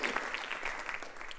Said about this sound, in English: Let's clap our hands unto the Lord